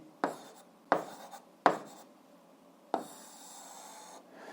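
A pen writing an algebra expression by hand, with four short scratchy strokes at uneven intervals, close and fairly quiet, ending in a longer steady scribble.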